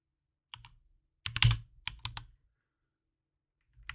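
Typing on a computer keyboard in a VMware server lab class, several bursts of sharp, close key clicks with short pauses between them and no talking.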